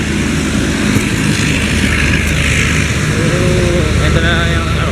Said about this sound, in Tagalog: Ito na yung aeroplano natin.